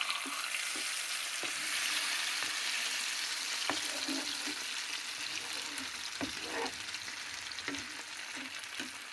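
Large fish pieces fry in a pan for a fish fry, a soft steady sizzle throughout with occasional light taps and scrapes from turning the pieces.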